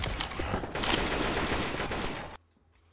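Rapid automatic gunfire in Left 4 Dead: loud, dense continuous bursts for over two seconds, then a sudden stop into near silence.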